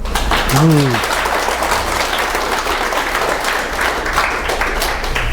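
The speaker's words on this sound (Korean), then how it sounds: "연기 한 판 멋지게 할 사람만 박수 한번 치세요" An audience at a lecture claps together, a steady rush of applause at constant strength throughout, with a brief voice sound near the start and a low hum beneath.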